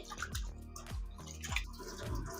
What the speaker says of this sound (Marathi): तांदळांना आपल्याला 4-5 पाण्याने धुवून घ्यायचे।